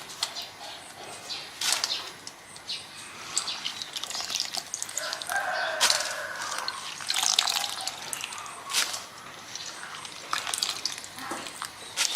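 Dirty wings, apparently chicken wings for cooking, rinsed in running water in a kitchen: steady splashing and trickling under a tap with scattered sharp drips and knocks, close and moderately loud throughout, no talking.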